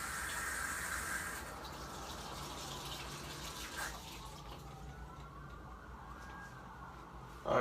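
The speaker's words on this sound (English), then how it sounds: "fill this up with some water" Tap water runs steadily into a cup at a kitchen sink, a continuous rushing flow that shifts in tone around the middle as the cup fills, then stops abruptly at the end.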